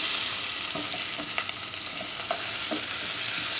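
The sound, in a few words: onion frying in melted ghee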